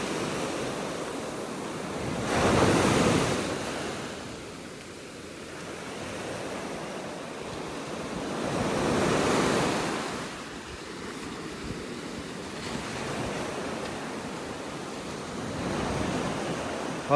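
Ocean waves wash onto a beach in North Naples, Florida, a steady roar of surf that swells into louder breaking surges every several seconds, with no talking.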